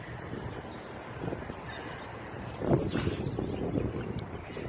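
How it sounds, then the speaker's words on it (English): Strong outdoor wind buffets the microphone in a steady low rumble with gusts, swelling louder in the second half; no speech is heard. "It is so windy out here."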